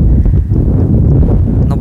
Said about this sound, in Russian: Ну, как слышно, наверное, ветер.